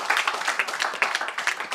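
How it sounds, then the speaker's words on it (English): An audience at a college lecture gathering claps in a brief, brisk burst of applause, dense and even throughout. "Give him a hand of applause."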